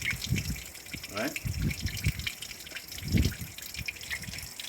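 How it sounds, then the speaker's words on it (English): Water drips and trickles as a tame pet bird gets showered from a tap, with small splashes under a person's quiet talk. "This bird loves to shower."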